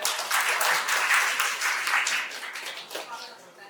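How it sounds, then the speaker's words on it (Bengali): Crowd applause at a tech talk event on AI and web development, steady dense clapping from an audience filling the clip with a voice faintly underneath. "সবাই হাততালি দেন"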